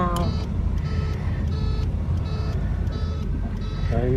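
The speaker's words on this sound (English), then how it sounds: "I added the buzzer to the signal light because so you'd know that it was on." Buzzer wired to the turn-signal light of a 1938 Oldsmobile with an eight-cylinder engine, giving a steady, evenly spaced series of short tonal beeps, about one every half second, over the running engine inside the car.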